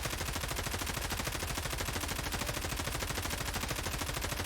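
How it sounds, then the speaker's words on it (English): A loud M4 rifle fires on full auto at a wall in the video game Escape From Tarkov, a dense unbroken rattle of rapid shots that lasts the whole stretch with no voices. "This is the Loud M4 build. We're just going to fire it up against a wall to see some of that recoil up in action here."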